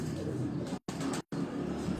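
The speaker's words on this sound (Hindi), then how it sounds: "ये बेस वो कबूतर है, नर है" A male pigeon cooing at close range, soft low rolling coos repeated with brief pauses between phrases.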